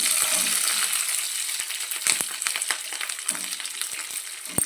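Green chillies frying with curry leaves and garlic in a pan for Andhra brinjal chutney, a steady close hiss of oil with scattered scraping stirs and small clinks, no voices.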